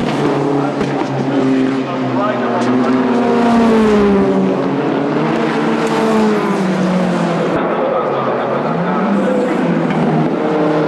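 Sports 2000 race cars roar past during a 1998 SRCC pilot series race, their engines loud and continuous with rising and falling pitch as they pass close by, and a commentator's voice runs over them.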